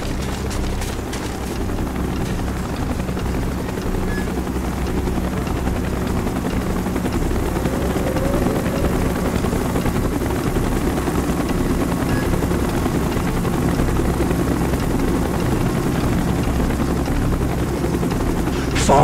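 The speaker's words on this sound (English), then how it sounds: "Chopper's inbound." A helicopter arrives in the Call of Duty video game, its steady rotor roar and engine drone holding loud and continuous throughout, mixed with low battle rumble.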